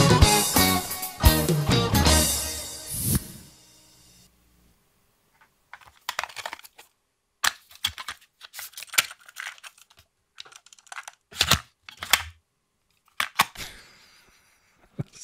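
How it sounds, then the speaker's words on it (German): A cassette tape flipping effect: a dense rush of clattering mechanical noise, then a series of separate sharp plastic clicks and clacks spaced irregularly, loud and close. "Das ist das Kassettenumdrehgeräusch."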